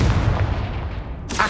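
Confringo fire spell blast in the Hogwarts Legacy video game, a single loud booming burst that rumbles and fades over about a second before a second sharp hit starts.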